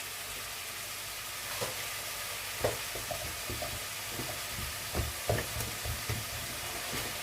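Mince frying in a pan with two stock cubes as it is stirred, steady close sizzle with scattered soft scrapes and taps of the utensil, no talking.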